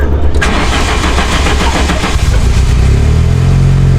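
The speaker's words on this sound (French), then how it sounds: "T'entends pas une fuite d'échappement là? Comme si le collecteur il était cassé." A car engine with an exhaust leak from a broken manifold roars and revs hard close by, loud and raspy throughout, then settles into a deep, steady drone toward the end.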